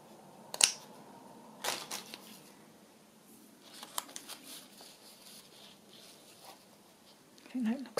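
Scissors snip through a piece of lace or paper for a wedding journal, a few quiet, scattered cuts and rustles close by, with a soft voice speaking in between.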